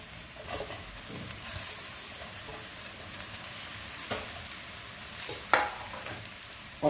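Onion, ginger and garlic frying in a pan for aloo gobhi masala, a soft steady sizzle running throughout, with a few sharper clinks and stirring knocks near the end.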